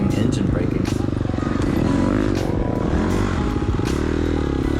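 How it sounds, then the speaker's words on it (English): Four-stroke dirt bike engine running close and loud during a hare scramble race, throttle blipped repeatedly in quick surges over a steady idle rumble, with clattering and scraping from the trail mixed in. "Kind of rolling here, idling, blipping the throttle a lot, which on a 4-stroke, why would you even want to do that?"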